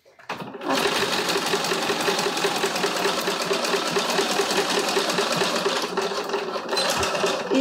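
A sewing machine stitches through a stiff, rigid tote bag, running loud and steady with a fast, even mechanical whir that continues without a break after a brief start.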